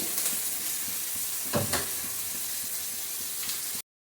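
Onion being stirred in a pan for a potato and jackfruit-seed curry, a steady close sizzle with a couple of louder scraping stirs midway, then an abrupt cut to silence at the end.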